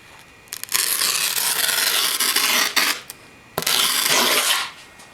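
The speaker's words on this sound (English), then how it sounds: "Next thing I'm going to do is score the grip tape" Rasping, scraping strokes as an old screwdriver scores skateboard grip tape on a chipped deck, loud and close, in long bursts separated by brief pauses, with no one talking.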